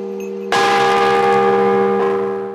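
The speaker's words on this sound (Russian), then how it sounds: "На звоннице появится сразу 8 колоколов." A church bell rings out loudly from a newly built bell tower, one strong strike followed by a long humming resonance, with a second softer strike as the tone decays.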